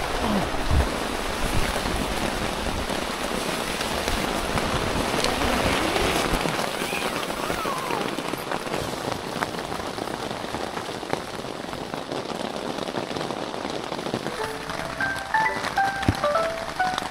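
Rain patters steadily on a camping tent at Chandava Lake, a dense, even hiss of drops on the fabric that runs throughout with no talk.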